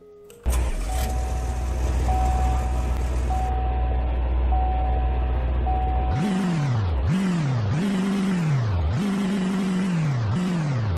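A Chevrolet-style 2500 HD crew cab pickup in the Roblox game Greenville idles steadily with a faint beeping tone, then revs hard four times in quick succession, each rev swelling and dropping back, loud and close.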